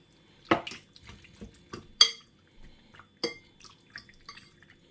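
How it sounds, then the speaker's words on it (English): A fork works seasoning into raw liver in a bowl, making irregular wet squelches and light clicks against the dish, close and fairly quiet, with pauses between strokes. "So I'm just gonna stir it all in, use my fork to combine all my seasoning to this liver."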